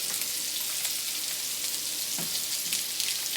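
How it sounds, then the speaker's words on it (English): Spotted sea trout frying in butter with garlic in a hot pan, giving a steady dense hiss of sizzling oil, close and continuous with a faint stir partway through. "And we let it fry there just a couple of minutes on each side."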